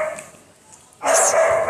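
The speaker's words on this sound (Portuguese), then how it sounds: "meu cachorro, ele late demais" A house dog that barks a lot lets out one loud, close bark burst after a second of quiet, with faint indoor background before it.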